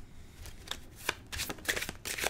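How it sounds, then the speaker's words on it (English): A deck of cards being shuffled for a game of Exploding Minions: several quick riffling bursts, close and crisp, with short pauses between them and no voices. "I play this card and I will shuffle the draw pile."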